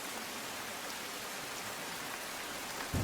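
Steady, dense heavy rain pours down in Valsad, Gujarat, as a constant hiss, with a slight bump in loudness at the very end.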